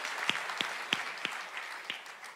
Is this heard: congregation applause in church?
yes